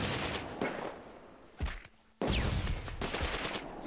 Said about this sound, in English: Put some covering fire down on the recon.